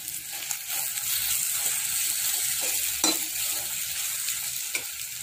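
Egg gravy masala with garam masala and salt sautés in a pan, producing a constant moderate sizzle punctuated by occasional spatula scrapes and a sharper clack near the middle, close and with no voices.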